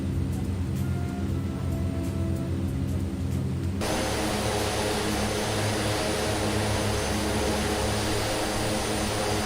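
A DHC-6 Twin Otter turboprop engine drones in a flight simulator game, with a steady whine that suddenly swells into a fuller, louder roar partway through and then holds constant with no talk.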